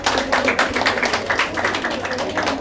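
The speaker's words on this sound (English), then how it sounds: "please give them a big round of applause." An audience at a medical quiz session on eclampsia applauds steadily, a dense, close patter of many hands clapping that continues throughout without pause.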